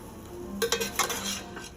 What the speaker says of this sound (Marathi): आता हे सर्व जिन्नस आपल्याला व्यवस्थितपणे मिक्स करून घ्यायचे आहे